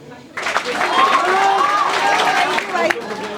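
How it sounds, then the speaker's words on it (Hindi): Schoolchildren in a classroom in Jamui, Bihar, break into clapping and excited crowd noise after a short quiet start. The loud, busy din carries raised young voices mixed in, then fades slightly at the end. "सर आपके लिए तालियां बजा रहे हैं बच्चे।"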